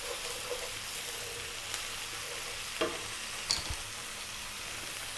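Garlic ginger paste sizzling in a hot pan for a chickpea curry, a steady close crackling hiss with a few soft clinks of stirring, no voice.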